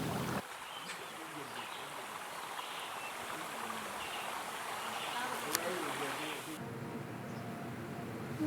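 Sea water washes steadily along the Changwon shore in a soft, continuous rushing hiss that carries on throughout, with a voice talking over it.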